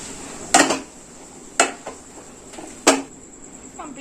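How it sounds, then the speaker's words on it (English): A masher works cooked pav bhaji vegetables in a pan, giving three sharp metallic knocks spaced about a second apart, with faint scraping and softer taps between them, close by and with no talk. "And now we have to mash with the masher."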